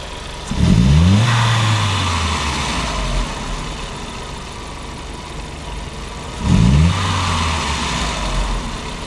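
1999 Volkswagen Passat 1.8T with a faulty MAF sensor, its engine revved twice in quick blips that fall back to a rough, uneven idle, close and loud.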